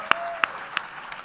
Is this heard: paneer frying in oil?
no